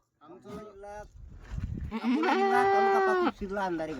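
Kathiawadi goats kept for breeding bleat close by in a farm yard, several short nasal calls followed by one long, loud wavering bleat and a final call, with people talking nearby.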